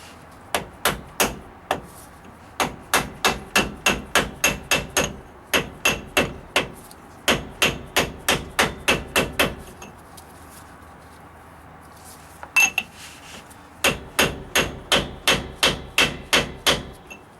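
A pinion seal being hammered into a Dana 70 axle on a Dodge Ram 2500, heard as close, sharp metallic blows in rapid bursts of steady taps, with brief pauses between the runs.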